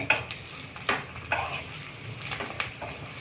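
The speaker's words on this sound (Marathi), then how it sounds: "आणि चवीपुरतं मीठ घालणे आणि छान परतून घेणे" Potato filling with turmeric and salt being stirred and sautéed in a pan, a soft sizzle under repeated scraping strokes of a spatula against the metal, close up with no talking.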